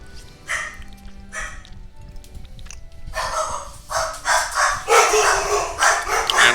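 Dogs in the video game Fuga: Melodies of Steel 2 bark and yip in quick repeated bursts, a few sparse calls at first, then a louder, busier run of barks toward the end.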